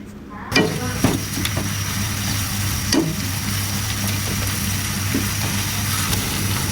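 Homemade ginger garlic paste fries with browned onions and garlic for a Dubai-style seer fish biryani, a steady close sizzle broken by a few sharp scraping stirs of a spoon against the pan.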